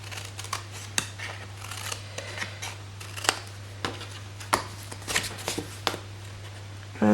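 Scissors snip notches into the flaps of a paper card gift box, giving a string of short, crisp cuts at an uneven pace, close and clear over a low steady hum, with no talking.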